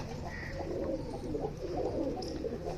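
Domestic pigeons kept in a rooftop loft coo in a continuous low murmur, several birds overlapping softly with no talk.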